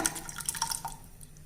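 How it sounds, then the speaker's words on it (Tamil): Water set aside from a kuzhambu curry is poured back into the pot, a faint, brief splashing trickle that fades after about a second. "குழம்புலேருந்து எடுத்து வச்ச இந்த தண்ணியை ஊற்றிடலாங்க."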